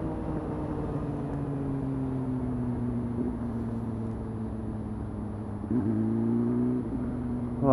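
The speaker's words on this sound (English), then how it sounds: "there's so much traffic" Road traffic rumbles steadily nearby, a continuous engine drone with a vehicle's revving pitch shifting partway through and swelling louder toward the end.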